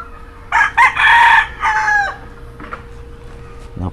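A lady cock, a henny-feathered rooster, crows loudly and close in a broken, multi-part call lasting about a second and a half, followed by quieter clucks and a low steady hum.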